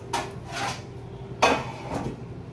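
A metal pan of home breakfast food is slid into an oven, with a few close, bright clanks and scrapes spread over a couple of seconds and no voices.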